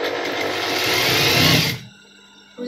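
An electric sewing machine stitches a pocket onto a pajama, a close, fast, steady whirring hum for under two seconds that then stops, leaving near silence and a faint final click.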